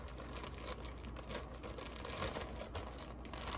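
Crinkly plastic resealable bread bag being handled, with continuous soft crumpling and rustling close by and no voices.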